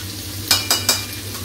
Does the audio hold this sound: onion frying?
yes